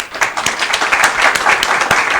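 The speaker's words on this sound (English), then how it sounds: "One more round of applause." Brief applause from a panel audience, many hands clapping at once in a dense, steady patter.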